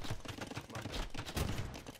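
Gunfire in a competitive video game match crackles in rapid, dense bursts, a steady barrage of shots with sharp repeated hits throughout, loud and unbroken, without talk.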